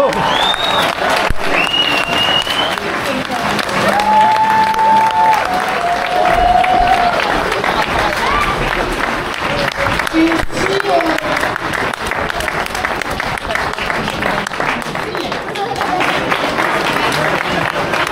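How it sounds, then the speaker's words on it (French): Loud, sustained applause fills a hall at a retro festival in Auzon, Haute-Loire, after a mini-miss pageant result, with a voice talking over the clapping and occasional high whistle-like tones. "Et on applaudit très fort, mesdames qui sont derrière."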